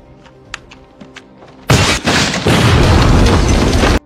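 A grenade detonates in a World War battle scene from a film, a sudden loud, sustained roaring blast that follows a few quiet clicks and taps and rumbles on for over two seconds.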